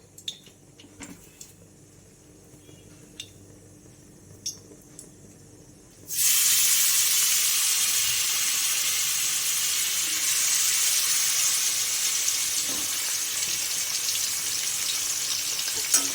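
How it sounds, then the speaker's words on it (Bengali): Onion paste hits hot mustard oil in a wok with whole cumin, bursting into a loud, steady sizzle that continues evenly after a few quiet clinks of utensils. "পেঁয়াজটাকে এবার একটু ভালো করে ভাজা ভাজা করতে হবে।"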